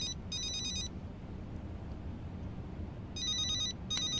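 An electronic telephone rings in two bursts of rapid trilling tones separated by a quiet gap, heard clearly over low background noise.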